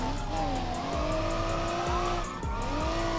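A car drifting in a video game, its engine droning steadily while tires squeal in long wavering whines, close and continuous, with no talking.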